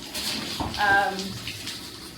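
Hose water runs over a horse's mane during washing, a steady close rush of spray with brief splashes and shifts in flow throughout.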